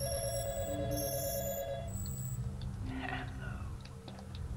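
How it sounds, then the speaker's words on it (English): Telephone ringing inside a creepy house in Garry's Mod, a steady electronic ring at moderate level over a low rumbling game ambience, fading out partway through. "Phone is ringing."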